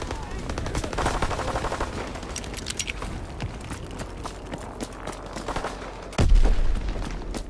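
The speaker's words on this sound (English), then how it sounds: "Enemy strafing run inbound!" Video game gunfire crackles as an aircraft strafing run comes in, rapid automatic shots and pops mixed with shouted game voice callouts, ending in a heavier low boom.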